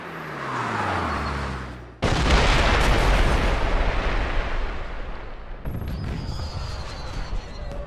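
Fireworks burst during a nighttime chase in the video game James Bond 007: Blood Stone, with a heavy boom hitting at two seconds, loud crackling rumble sustained afterward, and a second blast near six seconds.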